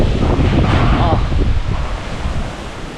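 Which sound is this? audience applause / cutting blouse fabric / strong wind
strong wind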